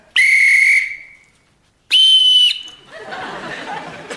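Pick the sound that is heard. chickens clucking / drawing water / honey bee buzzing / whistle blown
whistle blown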